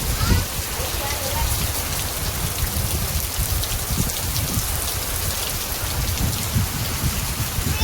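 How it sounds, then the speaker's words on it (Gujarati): Heavy rain pours steadily with gusting wind at nightfall in a Gujarati village, a dense continuous roar of drops on surfaces with no break across the whole stretch, and faint rumbling underneath. "વરસાદ આવી ગયો જોરદાર"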